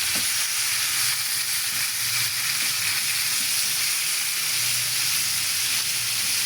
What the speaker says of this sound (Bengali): তুলার তেল ভালো করে গরম হলে এবার মাছগুলো ছেড়ে দিলাম